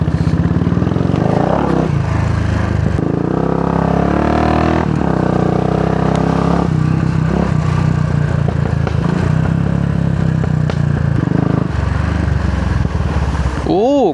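A Kawasaki KLX 230 motorcycle runs off-road, its engine droning and revving up and down under ongoing talk, with a brief sharp rise near the end.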